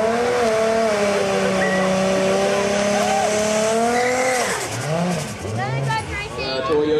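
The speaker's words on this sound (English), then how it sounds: "Toyota Supra coming back up here" A Toyota Supra roars down a drag strip, its loud engine note sweeping up through the gears with tire squeal. Crowd voices and shouting join near the end.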